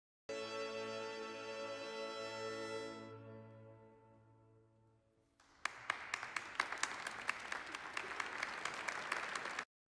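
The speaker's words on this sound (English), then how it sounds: "where people are clapping from the arena" Applause from an arena audience, picked up from a single spot in the room: a dense, steady wash of many hands clapping. It starts abruptly after a sustained tonal sound fades, then continues loud and close.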